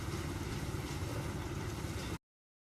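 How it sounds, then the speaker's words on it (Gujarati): A tractor-driven thresher takes in a feed of wheat, giving a loud, steady, dense mechanical roar that runs unbroken until it cuts off abruptly near the end. "હવે તમે જુઓ ઠેસરમાં જે ઓર લે છે એ કઈ રીતની લે છે"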